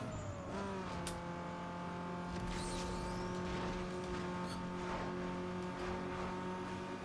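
Racing video game car engine held high against the rev limiter, a loud steady droning whine with sustained harmonic tones and slight pitch shifts, continuous and close throughout with no talking.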